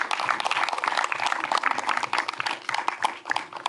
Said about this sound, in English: I'd like to ask all of you guys to give him another round of applause